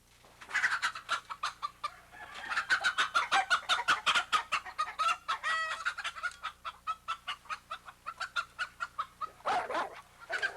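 Chickens cluck busily and rhythmically, in a dense run of close, repeated calls that keeps going for several seconds and then briefly fades.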